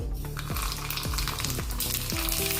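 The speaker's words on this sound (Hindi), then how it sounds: "तड़के के लिए मैंने तेल लिया है, इसमें राई डाल देंगे।" Mustard seeds crackle and pop in hot oil for tempering, a steady frying sizzle with sharp little bursts throughout.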